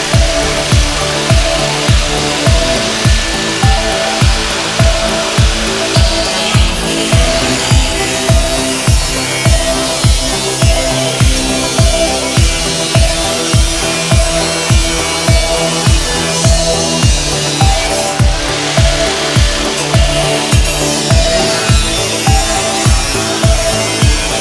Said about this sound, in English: Now time for the grinder, and we'll hack it off.